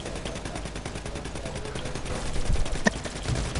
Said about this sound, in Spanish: Ve los disparos.